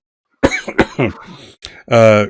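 A couple of short, sharp coughs close to the mic, followed by a brief voiced throat sound at the end.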